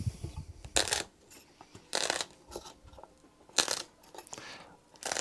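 Knife slicing shadow foam for a toolbox along a ruler: several short, crisp cutting crunches in an irregular rhythm, close and fairly quiet.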